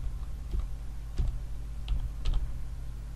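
Scattered key clicks from a computer keyboard while someone types, soft and sparse over a steady low electrical hum.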